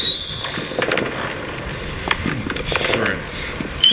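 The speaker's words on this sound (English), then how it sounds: "That's the bootleg fireworks." Bootleg fireworks going off outdoors, a series of scattered crackles, pops and whistling squeals at moderate distance.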